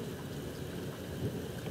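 Thunderstorm with steady, heavy rain hissing throughout and low rumbling thunder underneath, a slightly stronger swell about two-thirds of the way in; no voices.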